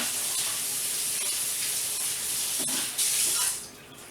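Tap water runs steadily from a kitchen faucet while potatoes are rinsed, a close, continuous hissing splash that swells briefly louder near the end.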